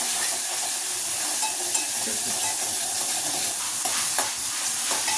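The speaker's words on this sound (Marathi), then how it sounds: "थोडीशी अद्रकची पेस्ट पण टाकते." Ginger paste goes into a pan of frying chicken masala and gets stirred, giving a steady, close hiss and sizzle with faint scraping throughout and no voices.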